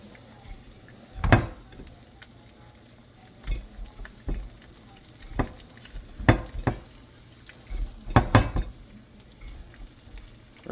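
Breaded chicken for chicken parmesan fries in a pan with a steady soft sizzle, broken by occasional sharp clatters and spits as pieces are moved.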